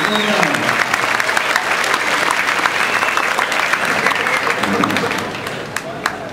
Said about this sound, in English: give these guys a great round of applause